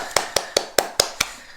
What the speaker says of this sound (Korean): 야, 박수.